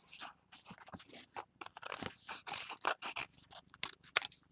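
Scissors snip and crunch through paper while cutting out paper clip designs, a quiet, close run of short irregular cuts and rustles with no talking.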